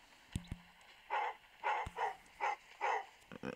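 A dog in a video game barks in four short, evenly spaced bursts, with a few sharp clicks and thumps around them, fairly close and clear.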